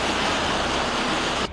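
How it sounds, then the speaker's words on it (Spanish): Heavy rain pouring down outdoors as a steady, loud, dense hiss with no pauses, cutting off abruptly at the end; no voices. "está demasiado fuerte la lluvia"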